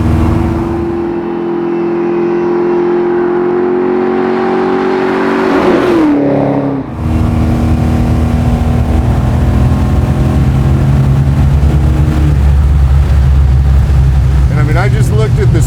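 A garage-built 1970 Chevelle making 500 wheel horsepower accelerates hard, its loud V8 roar climbing in pitch, dropping briefly at a gear shift, then pulling strongly again, close and steady throughout.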